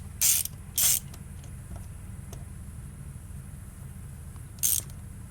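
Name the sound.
ratchet removing two 8mm bolts on a three-wheeler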